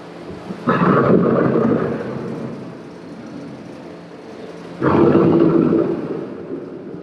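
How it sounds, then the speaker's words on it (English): Two deep rolling thunder crashes in a storm effect at an Epcot attraction, each starting abruptly and rumbling for a few seconds over a low background roar, loud and close. "The approaching storm waves seem violent and destructive to us"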